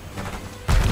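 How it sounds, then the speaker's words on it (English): A stun grenade goes off in the Call of Duty: Black Ops 6 shooter, a sudden loud, heavy burst that cuts in near the end after a rumbling background. "Ez a stun grenade."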